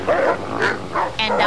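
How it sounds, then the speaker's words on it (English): Dogs bark in a few quick, close, loud yaps, several short barks in a row with brief gaps between them. "And dogs."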